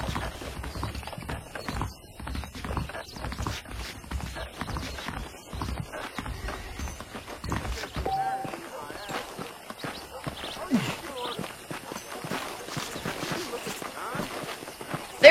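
Steady clip-clop of saddled horse hooves walking at an even pace in a video game, with people talking over it for most of the stretch.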